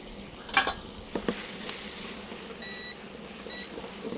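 Apples fry in butter in a pan with a faint steady sizzle, broken by a few clattering stirs and knocks early on.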